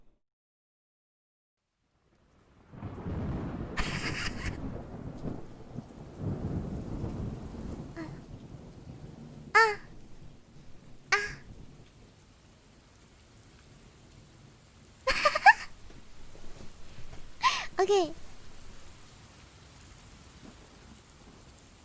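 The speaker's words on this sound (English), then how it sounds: "Ambient sound? Like rain sounds? Rain sounds." A rain and thunder ambience recording is played back, with a steady wash of rainfall and several sharp thunder cracks and rumbles rising out of it. A voice speaks briefly once, over a long stretch of continuous rain.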